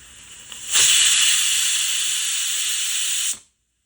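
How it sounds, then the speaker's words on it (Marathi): A pressure cooker cooking biryani lets out one loud, sustained hissing whistle of steam that cuts in sharply, holds for about two and a half seconds, then stops abruptly, with no talking. "आपण 3 ते 4 शिट्ट्या करू याला"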